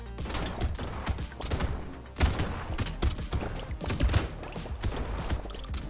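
A nuke launcher fires over and over in the video game Brotato, a dense, chaotic barrage of blasts and crashing impacts with heavy thumps, loud and close, and no talking.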